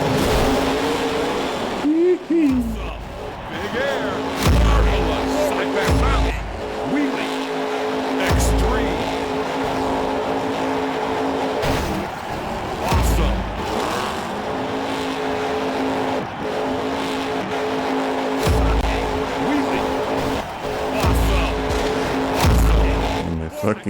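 Monster Jam: Battlegrounds game car engine roars and revs steadily with repeated tire squeals and skids, loud and continuous, while someone talks over it.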